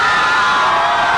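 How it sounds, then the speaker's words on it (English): A large arena crowd at an Auburn Tigers NCAA tournament basketball game roars and cheers in a loud, steady, dense wall of noise that holds throughout, close and overwhelming. "Just listen to this crowd."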